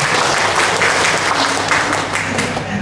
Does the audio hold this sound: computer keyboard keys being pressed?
no